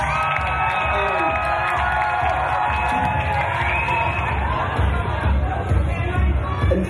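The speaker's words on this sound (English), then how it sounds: "A round of applause for the rest of our competitors." A crowd at a charity Strictly-style dance competition cheers and shouts for the competitors, loud continuous whooping and children's voices blending into a dense, lively roar.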